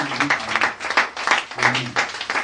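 Congregation applauding during a Sunday church service, a dense wash of clapping from many hands rising and falling in waves, with faint voices underneath.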